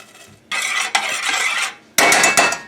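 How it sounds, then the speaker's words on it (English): A spoon stirs cilantro into pasta sauce in a pot on a cooktop, producing two loud, close bursts of wet scraping and sloshing, the first longer, separated by a short pause. "And then I'm going to stir it."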